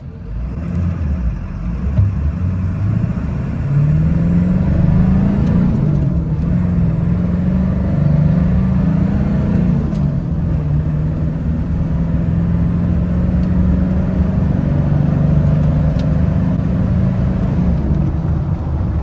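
A 1995 Ford F350 pickup fitted with a KC Turbo balanced assembly pulls away from a stop on a road, its engine a steady loud rumble rising and holding through nearly twenty seconds of acceleration, with no talk over it.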